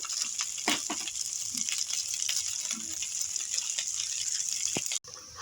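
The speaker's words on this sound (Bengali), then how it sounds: "পোলাও এই যে এইভাবে ভেজে নেব" Sweet semolina polao pellets frying in a pan, a continuous bright hiss of oil with scattered small pops and clicks, close up without speech, cutting out briefly near the end.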